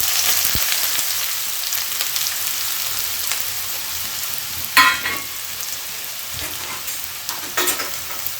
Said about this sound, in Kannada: ಈ ಈರುಳ್ಳಿನ ನೀಟಾಗಿ ಫ್ರೈ ಮಾಡ್ಕೊಳ್ಬೇಕು, ಮೀಡಿಯಮಲ್ಲಿ ಇಟ್ಬಿಟ್ಟು.